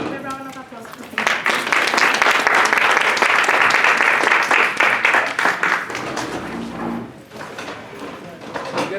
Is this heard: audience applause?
yes